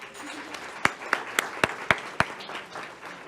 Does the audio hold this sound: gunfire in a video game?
no